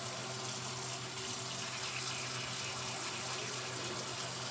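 Water runs steadily from a bathroom tap during a face-washing routine, a continuous hiss at moderate distance with no talking.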